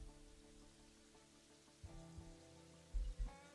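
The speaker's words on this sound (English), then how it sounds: "It's also raining" Rain falls in Terraria as a soft, steady patter under faint game music, with a few low thumps near the end and no talk.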